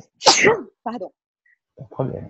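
A single sharp sneeze bursts out close up, followed by a few quiet spoken words from people in a classroom setting.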